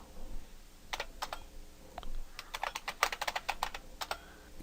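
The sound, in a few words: typing a terminal command on a computer keyboard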